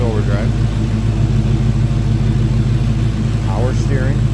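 An LS2 V8 engine in a 1935 Ford Deluxe street rod idles steadily with a deep, throbbing low rumble throughout, while a person talks nearby over it.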